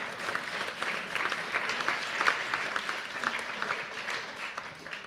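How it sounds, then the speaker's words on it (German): Audience applause at a panel discussion on Europe, a steady crowd of many hands clapping at moderate loudness with crisp individual claps standing out. "Jetzt könnte man klatschen zum Beispiel."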